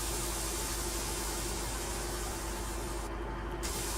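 Compressed air hisses from a truck's lift axle in Euro Truck Simulator 2, a loud, steady, broadband rush that holds for the whole stretch.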